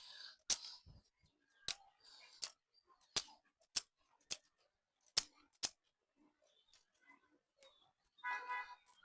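Freshly harvested turnips are cut with crisp, sharp snips, about nine separate clicks spaced unevenly over quiet gaps, close and clear, with a brief rustle near the end.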